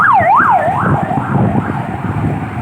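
Loud, close ambulance siren wailing in rapid rising and falling sweeps at a highway accident scene in Baras, Rizal, with traffic rumble beneath.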